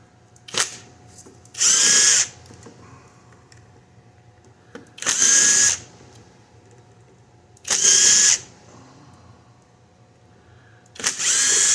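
A power tool, such as a drill or impact driver, whirs in four short bursts of about a second each while backing out screws under the rectifier of a Denso alternator from a 2013 Chevrolet Malibu. Small clicks and handling noises sound between the bursts.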